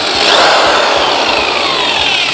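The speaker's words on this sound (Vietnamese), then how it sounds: "là khoan vào nha." A power drill bores into a wall, a loud, continuous, grinding whine that holds steady at close range for the whole short stretch, with no voices.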